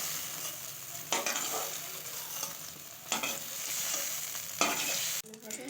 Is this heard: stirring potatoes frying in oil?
yes